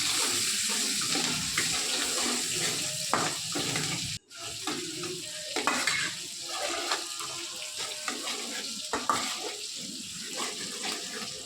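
Chopped onion, chilli, ginger and garlic sizzle in a pan for mixed fried rice, a steady frying hiss broken by clattering stirring scrapes.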